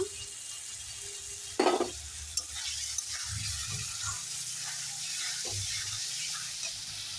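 Paneer curry spices sizzle in a pan after water is poured in and are stirred, with a few sharp clatters early on, then a steady frying hiss and occasional soft spatula scrapes close by.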